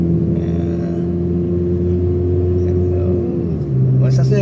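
A close, steady engine hum from inside a Toyota Vios on a test drive, a car said to jerk in first gear, holding a low drone with a shift in tone near the end while someone talks over it.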